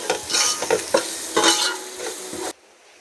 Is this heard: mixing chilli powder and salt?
yes